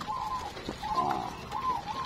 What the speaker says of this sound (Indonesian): nongkrong di kandang dengerin perkutut kita